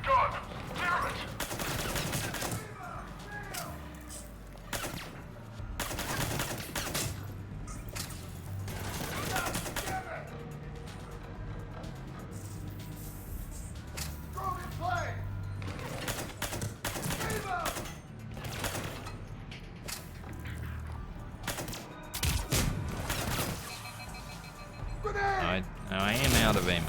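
Suppressed weapon fire in Mass Effect 3, repeated muffled shots and clattering bursts spread across a tense combat scene, heard with game dialogue and a player talking over it.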